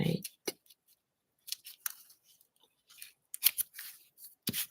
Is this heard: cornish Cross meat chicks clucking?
no